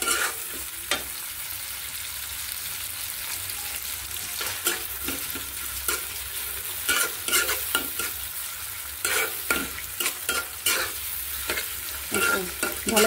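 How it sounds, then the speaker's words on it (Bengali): Small chicken pakora pieces fry in a pan, with a continuous close sizzle of hot oil and repeated scraping and turning clicks from a spatula. "এই যে এখানে আমি পাকোড়া করতেছি চিকেন"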